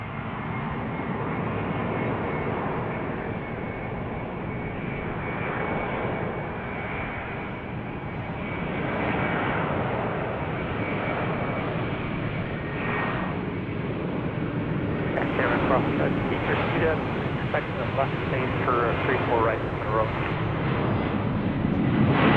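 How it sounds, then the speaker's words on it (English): Boeing 767 jet engines spool up during takeoff, a steady broad roar that holds level and swells slightly louder near the end, with radio chatter and talk faintly mixed underneath. "Those engines get you up in no time for that 767 into the sky."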